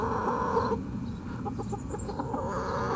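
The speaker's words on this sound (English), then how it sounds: "Got so many different kinds of chickens." Mixed chickens, Silkies among them, cluck and murmur inside a chicken coop, a busy close chorus of short clucks that continues throughout with no talk.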